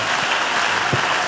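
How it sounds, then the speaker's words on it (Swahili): A church congregation applauding, dense steady clapping filling the space, loud and continuous from start to finish. "Hebu kwanza mumpigie makofi"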